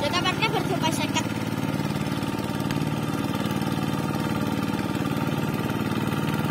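A tractor engine runs in a rice field, a steady, loud low chug that holds close and even throughout, with people talking over it near the start.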